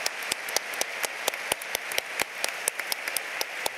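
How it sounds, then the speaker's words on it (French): A small audience at a civil society talk about Venezuela claps for a speaker, with sparse, distinct hand claps in an uneven rhythm, fairly faint and with no voices. "Faisons-lui un applaudissement."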